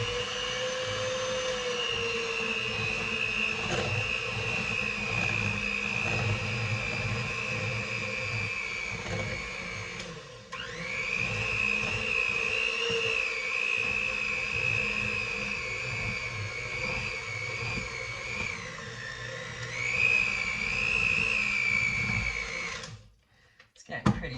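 A hand mixer whirs steadily through thick lemon blueberry loaf batter, a close continuous motorized whine that dips briefly midway as the beaters shift, then labors and cuts off at the end.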